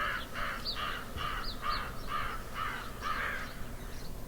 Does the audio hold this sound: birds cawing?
yes